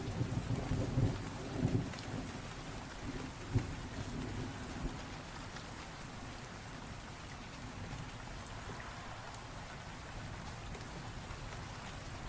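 Steady rain patters on surfaces through a night thunderstorm, with low rolls of thunder rumbling in the first few seconds before easing into an even, continuous downpour.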